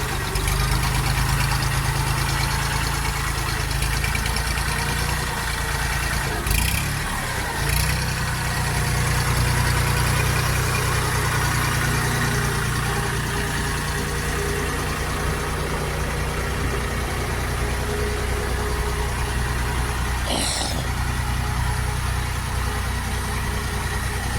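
Jinma 244 tractor engine idling steadily on a cool spring morning, a loud, even diesel chug with a few short knocks and clatters breaking through.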